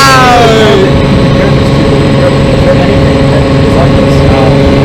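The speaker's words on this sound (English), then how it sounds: "the car is so loud. I can't even hear myself." A hypercar's loud, steady engine roar fills the space with a constant low drone, a high whine fading early on, and a voice talking beneath it.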